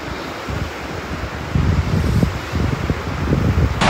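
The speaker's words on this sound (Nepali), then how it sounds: "यो हिउँ पग्लेर आएको खोला हो" Snowmelt mountain river on the trek toward Tilicho Lake, a loud constant rush of flowing water with heavy low rumble and some wind buffeting on the microphone, no voices.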